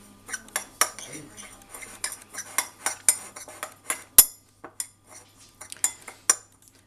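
A spoon stirs cinnamon into mascarpone cream, scraping and clinking against the bowl in a steady run of close strokes with one sharp knock partway through.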